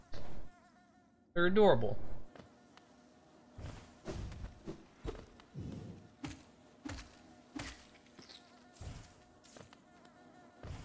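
Buzzing bee enemies in Hollow Knight hum in short, fuzzy bursts with a few soft thuds among them, while a voice talks intermittently over the game sounds.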